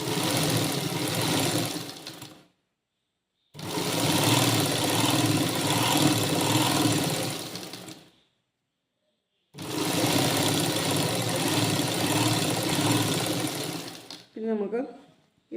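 A sewing machine stitches folded fabric edges in three long, loud, close runs separated by short pauses, with a voice heard near the end.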